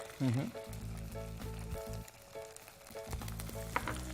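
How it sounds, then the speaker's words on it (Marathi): Fenugreek seeds fry in hot oil inside a pressure cooker, a close, steady sizzle with stirring, while a voice speaks over it at the start and again near the end. "हे मेथी दाणे टाकले ओके दोन मिनटं याला फक्त ते तेलात व्यवस्थित वाफू द्यायचं"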